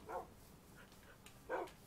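Dogs barking in the Minecraft Hexxit modpack video game, two short, loud barks about a second and a half apart over a low background hum, with a fainter bark in between.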